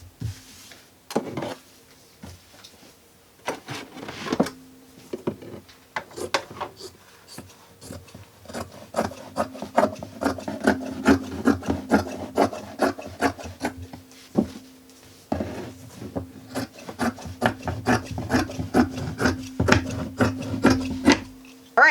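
Scissors cut through thick, stretchy skirt fabric close by, with repeated short crisp snips and rasping slides of the blades across fabric and a tabletop, forming an uneven, steady rhythm with no talking.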